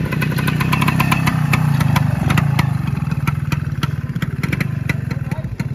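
A classic motorcycle idling at a wet car-and-coffee meet in Wales, its engine a loud, close, steady thumping rumble with rapid regular firing pulses, no talk over it.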